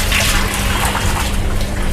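Water gushes loudly and continuously from one side of a hand wash tap in a room, a close, steady rushing splash with no voices.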